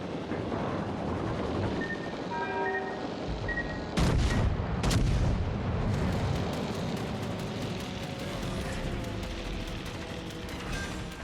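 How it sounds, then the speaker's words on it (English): Warship rear turrets fire in the naval video game World of Warships Legends: two sharp, loud booming salvos stand out against a continuous roar of battle noise, followed by rapid crackling blasts. "Let's fire off some of these back turrets, eh?"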